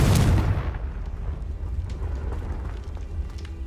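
A Confringo explosive spell from Hogwarts Legacy bursts with a loud, heavy blast at the start, then rolls off into a long low rumble with faint crackling debris.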